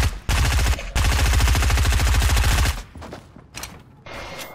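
Rapid automatic gunfire in Fortnite, a long loud burst of closely spaced shots after a brief opening volley, then scattered fainter shots and quieter game noise.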